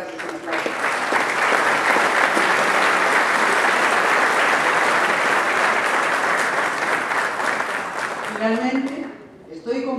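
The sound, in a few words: audience applause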